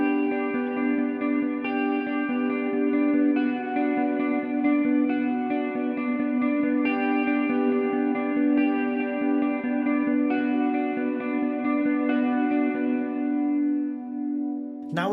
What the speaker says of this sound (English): The next ambient preset is a bit more of a textural one, using the Eventide and the Streamline algorithms.